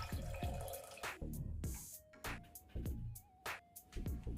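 Water pours and splashes into a pressure cooker holding soaked moong and urad dal. The splashing and dripping is quiet and comes in uneven bursts with small clinks in between.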